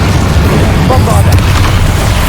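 A Bombarda blasting spell goes off in the Hogwarts Legacy video game, a loud, sustained booming explosion with dense low rumble filling the whole moment, with a character's voice shouting over it.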